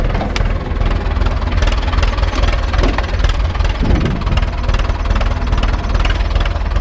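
A Zetor 25 tractor engine idles at low revs, a loud, close, steady mechanical rumble with a fast, even knocking pulse and no talk.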